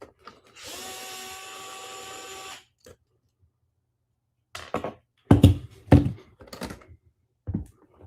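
A power tool bolts parts onto a 3D-printed RC car, giving a steady whirring run of about two seconds, followed by several sharp, close knocks and clatters of parts being handled.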